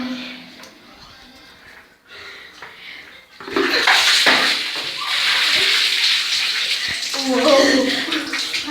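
Cold water and ice splash and slosh during an ice challenge, starting quietly and then becoming loud and sustained with a steady pour and splashes; people talk over it.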